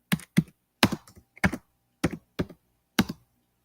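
Keys clacking on a broken computer keyboard, about eight sharp, close, separate strokes in an uneven, hesitant rhythm with short silences between them.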